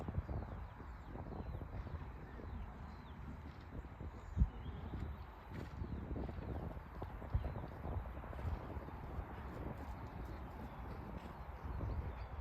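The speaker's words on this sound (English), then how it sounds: "Seems to be quite a lot of trotting in this" A horse trots in an arena, hooves clip-clopping in a steady quick rhythm at moderate distance over light wind noise, with no one speaking.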